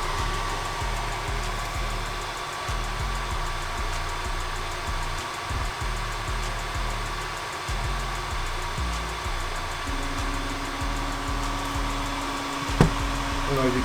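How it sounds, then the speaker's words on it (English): A Creality Ender 3 Max 3D printer purges filament through its nozzle while changing filament mid-print. A constant loud whir of fans sits under rhythmic, pulsing motor hum as the nozzle moves. "it's gonna go ahead and purge the nozzle. Just waiting for the nozzle to move around."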